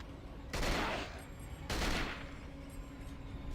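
Kalashnikov gunfire in the game Kiborgs, two loud bursts of rapid automatic fire, each lasting about half a second, separated by a short pause.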